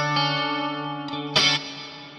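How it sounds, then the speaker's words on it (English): An electric guitar played through a Fractal AM4 with only the chorus effect, the delay level zeroed, rings out in sustained, shimmering chords, with a brighter strum near the end. "zero out the level of the delay so that we're only hearing the chorus"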